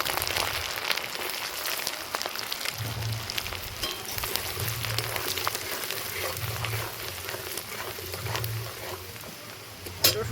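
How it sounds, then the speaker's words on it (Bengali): Dried chilli, cumin, bay leaf, cinnamon, cardamom and garlic sizzle in hot oil for a mutton kosha, a soft, steady crackle and hiss close by with scattered sharper pops. "ফোড়নে দিয়ে দিচ্ছি শুকনো লঙ্কা, জিরে, তেজপাতা, দারচিনি, এলাচ"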